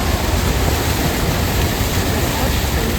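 Water rushes along a roadside near Haridwar, Uttarakhand, making a loud, steady, close roar of flowing water with no breaks.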